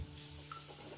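Ground spice paste sizzles with oyster sauce and a tofu filling as it is stir-fried in a pan, a soft steady frying hiss with a light scrape of stirring near the middle.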